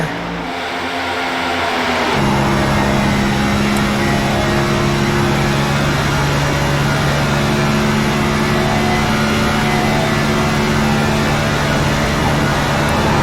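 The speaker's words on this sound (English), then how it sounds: "You can hear the tires slip. A little bit of that kind of scrunchy noise as they go in the corner." A race car at speed in the steep banked corner at Atlanta Motor Speedway, heard from inside the car, a loud steady engine drone with faint scrunchy tire slip mixed underneath.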